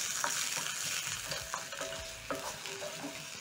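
Onions sauté in oil in a pan with a continuous close sizzle, while occasional scrapes and taps come from stirring.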